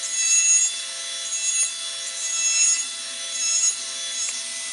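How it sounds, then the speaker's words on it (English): A dental straight handpiece trimming an acrylic denture flange gives a steady high-pitched whine with a gritty grinding edge. It swells and eases in short passes as the bur touches and leaves the acrylic, and no one speaks. "we're just going to use a straight handpiece just to adjust that now"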